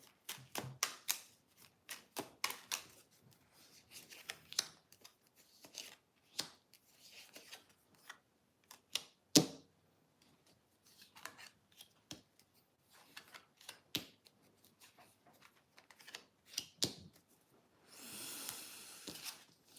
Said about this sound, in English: I'm going to pull 3 cards for Clarence, 3 cards for Ginny.